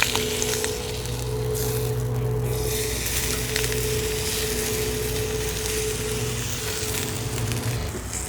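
Picanha frying in a pan with a grill-marking surface, giving a steady close sizzle with a hiss and faint crackles, continuous for several seconds and heard on its own with no talk.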